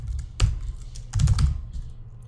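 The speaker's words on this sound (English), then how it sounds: "So get an attribute, and in this case we'll just type name" Several quick keystrokes on a computer keyboard while a name attribute is typed into code, clustered in two short bursts, close and fairly loud with no talking.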